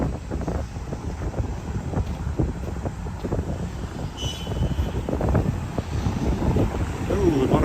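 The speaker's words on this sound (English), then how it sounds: "Oh, a lot of wind here too" Strong wind buffeting the microphone on a cold downtown street in Regina in March, a constant rough roar with gusts swelling and fading, loud and close throughout.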